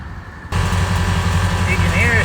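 An air compressor for a horn blaster kit switches on and runs, filling the horn's air tank with a steady loud motor drone and hum, while a vehicle engine idles beneath.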